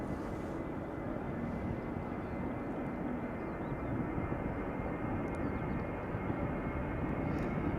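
An Airbus A321 jet bound for London Gatwick rumbles at Schiphol Airport, a steady, moderately faint engine roar holding evenly throughout without pause.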